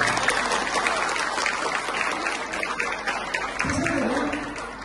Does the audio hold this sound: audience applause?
yes